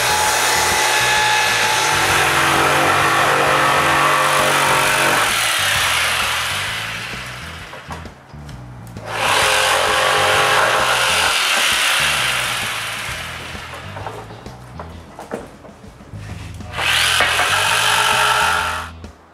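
A power saw cutting notches into wooden exterior wall planks for windows while building a workshop, loud sustained whining bursts of sawing separated by quieter pauses, three cuts in all.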